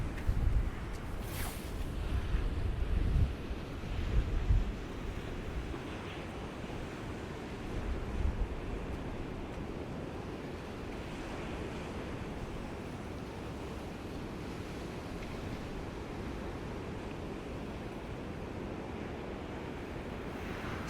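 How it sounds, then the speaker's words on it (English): Ocean waves crash in against the shore below seaside properties, a constant broad roar with a few heavier surges early on, mixed with wind buffeting the microphone. "look at the waves crashing in"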